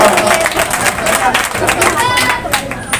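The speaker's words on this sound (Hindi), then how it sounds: "उनका जोरदार तालियों से स्वागत किया जाए" Crowd clapping at an outdoor Congress ward campaign gathering in Seelampur as Javed Sahab steps onto the stage, brisk and continuous amid crowd babble and a voice over the top.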